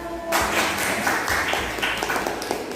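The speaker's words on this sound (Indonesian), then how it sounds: "Tepuk tangan untuk kelompok 1" A class applauds a presenting group in a school science lesson with a sudden burst of steady, fairly close clapping that continues evenly to the end.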